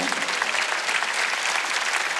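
Church congregation clapping together during a Wednesday worship service, a steady, dense wash of many hands filling the room at close range for a couple of seconds without a break.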